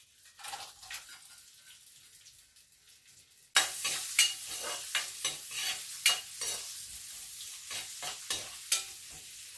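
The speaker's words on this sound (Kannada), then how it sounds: "ಈಗ ಇದು ಫ್ರೈ ಆಗ್ತಾ ಇರಲಿ." Chopped onion and green chilies for beetroot palya hit hot oil in a pan with a sudden loud sizzle after a quieter start. Repeated scraping stir strokes follow in an irregular rhythm, close up, with no voices.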